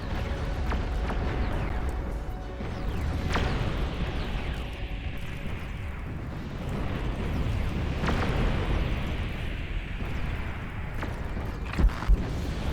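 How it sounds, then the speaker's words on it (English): Nuclear missile launch in the real-time strategy game Beyond All Reason, a loud sustained roaring rumble with sharp blasts and booms layered over battle noise throughout, ending in a few quick pops. "Nuke is firing."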